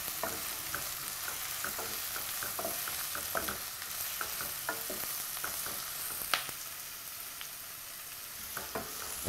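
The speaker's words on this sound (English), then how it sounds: "We'll give this a little stir." Zucchini frying in a pan for a curried dish, a soft continuous sizzle broken by repeated light clicks and scrapes of a utensil stirring.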